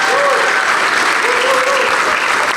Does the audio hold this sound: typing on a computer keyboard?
no